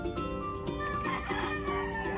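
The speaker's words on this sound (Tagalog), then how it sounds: "May manok lang sa ano natin." Chickens cluck and crow repeatedly in a noisy chicken farm yard, with overlapping calls and steady background clamor throughout.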